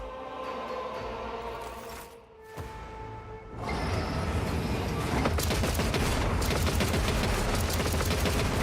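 Heavy bolter trencher turrets open fire in the video game Rogue Trader, a sudden loud barrage of rapid, overlapping shots that follows a quieter moment and keeps hammering in a dense, continuous rhythm.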